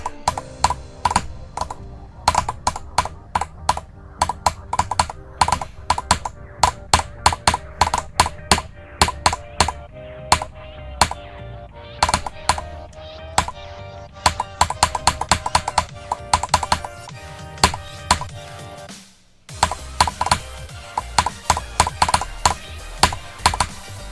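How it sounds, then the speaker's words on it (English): Rapid, uneven mouse or button clicking during gameplay of the game Zodiac, dense bursts of sharp clicks running almost continuously for over twenty seconds, with a brief pause near the end. "And the clicking does sound a bit different."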